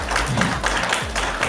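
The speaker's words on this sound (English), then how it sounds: "A round of applause for the president." Audience applause for the president at a Nairobi fashion gala, a dense steady clapping wash from a crowd that swells in waves, with a faint voice and hum underneath.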